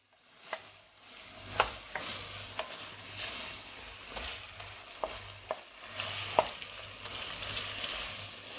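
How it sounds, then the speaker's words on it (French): A spoon stirs chicken with curry powder in a frying pan, giving scattered sharp taps and scrapes against the pan over a soft, steady sizzle, close and with no talking. "Je mélange bien."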